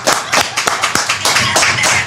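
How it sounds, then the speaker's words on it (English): An audience clapping in a short burst at a live business Q&A show, a brisk patter of hands that holds steady for about two seconds. "Let's clap it up for XXX1."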